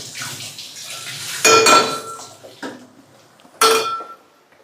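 Gongura leaves are washed by hand in water in a steel vessel, giving a few splashy sloshes with metallic clinks, separated by quieter pauses and heard close up.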